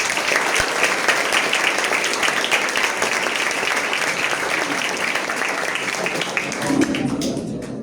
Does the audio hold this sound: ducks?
no